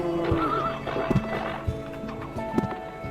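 A black horse in the video game Harvest Moon Hero of Leaf Valley neighs and whinnies in several short bursts, with soft clip-clop hoofbeats throughout, moderately close and with no voices over it.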